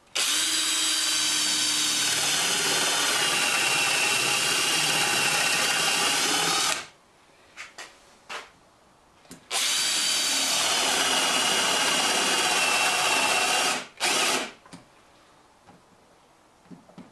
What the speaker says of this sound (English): Just going to use this spade bit to countersink, and then I'll drill the 5/16 hole.